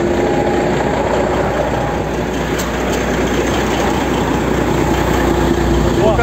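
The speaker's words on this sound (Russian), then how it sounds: "Труба выхлопная отвалилась нахрен." A Freightliner FLB truck engine runs with its exhaust pipe fallen off, giving a loud, harsh, continuous low drone and rattle, close and unbroken throughout.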